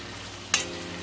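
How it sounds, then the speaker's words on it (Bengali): Onions frying in oil until brown in a pan, a steady faint sizzle with a short sharper burst of crackle partway through, no voices. "যাতে পুড়ে না যায়, পেঁয়াজটাকে আমি বাদামি করে ভেজে নেব।"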